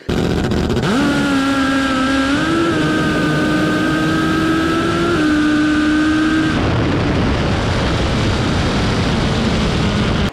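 A Top Fuel drag motorcycle engine at full throttle, a loud, harsh, sustained roar whose pitch jumps up and then holds before dropping into broadband noise, very close and dominating throughout.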